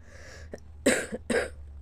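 A person coughs two or three times in quick succession, short harsh bursts close to the microphone with a faint breathy sound before them, in a quiet indoor setting.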